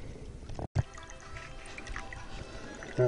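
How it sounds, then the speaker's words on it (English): Water runs steadily through a cheap $50 plastic gold sluice at an outdoor digging site, a continuous trickling wash with a brief dropout and a louder gush near the end. "We've got a sluice going."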